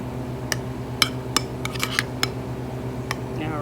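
Utensil stirring ingredients in a bowl, a handful of faint clinks and scrapes scattered irregularly over a steady low background hum.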